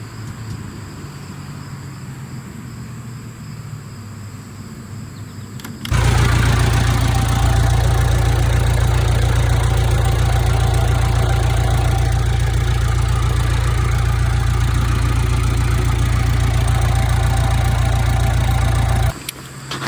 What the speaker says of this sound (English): So I'll fire it up and see if I can get an idea where the leak's coming from on it